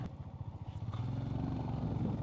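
A motorcycle labours on a rough high-altitude track near Umling La, its engine a faint, low, pulsing throb that never rises into a strong rev.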